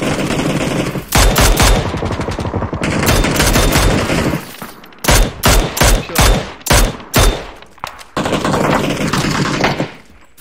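Heavy gunfire in PUBG on PC, a loud squad tournament match: long automatic bursts alternate with a rapid string of separate sharp shots, then sustained firing resumes.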